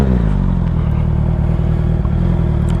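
A 2021 Honda CBR650R sport motorcycle engine runs loud and close, a steady throbbing idle with a low rumble and light mechanical clatter.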